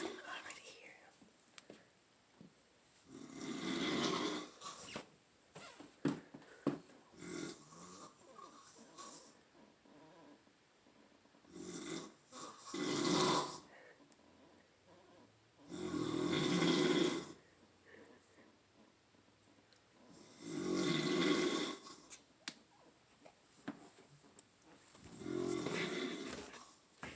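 A man asleep on a couch snores loudly in a slow, regular rhythm, with deep raspy breaths every four to five seconds and quiet stretches between them, and soft whispered voices in the gaps.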